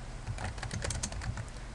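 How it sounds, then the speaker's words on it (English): Quick, irregular clicking of keys on a computer keyboard, close and fairly quiet, with no talking. "We start with typing in the right field"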